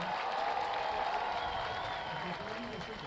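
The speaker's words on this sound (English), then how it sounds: "big round of applause" Audience applause and some cheering for an Orlando police officer, a sustained crowd roar of clapping with a voice speaking over it.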